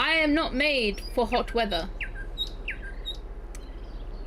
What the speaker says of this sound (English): Spirit City Lo-Fi on for the bird noises